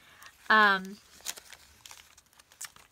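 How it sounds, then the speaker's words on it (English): Plastic packaging being cut open for a junk journal, heard as scattered close crinkles and rustles after a short tonal burst, with quiet handling noise between. "So you're going to want to go ahead and cut your packaging"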